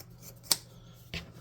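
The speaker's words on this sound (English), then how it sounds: "I'm going to get scissors and a piece of fabric." Scissors snip through fabric cut from an old t-shirt, two distinct close cuts about half a second apart, crisp and brief in a quiet room.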